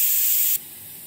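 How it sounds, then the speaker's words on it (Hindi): A pressure cooker of palak dal vents steam with a loud, sharp hiss that cuts off abruptly about halfway through, leaving a faint low residual sound. "अब इसको हम सीटी निकाल लेंगे।"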